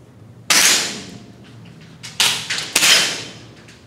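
Rifle shots at a summer camp shooting range: three sharp reports, each with a bright burst and a short decaying tail, the first around half a second in and two more close together later, loud and fairly near.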